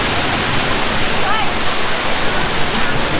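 A waterfall in a park in Tsim Sha Tsui, Hong Kong, roars in a dense, steady wash of rushing water, with a voice faintly heard beneath it.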